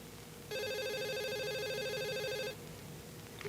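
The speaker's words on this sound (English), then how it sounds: "She was just getting comfortable when she heard the phone ringing." An electronic telephone ring, one warbling two-second trill over a quiet background hum.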